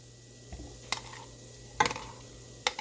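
Canned clams and their liquid stirred in a pot for New England clam chowder: three quiet scraping clinks of a spoon against the pot, spaced about a second apart, over a soft steady hum.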